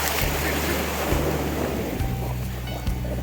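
Stormy sea waves roll in on the Odesa shore under gusting wind, a steady loud wash of surf with buffeting low rumbles from wind against the microphone.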